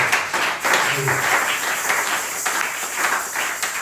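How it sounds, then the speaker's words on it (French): A congregation applauds the Lord during an evangelical sermon, a steady wash of many hands clapping together for a few seconds at moderate loudness. "Applaudissez le Seigneur."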